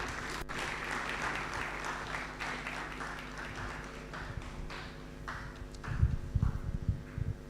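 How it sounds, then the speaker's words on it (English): A room of guests applauds at a book launch with dense, steady clapping that thins into scattered claps, followed by some louder low thumps near the end. "So please, let's clap for my Lord to auction the book."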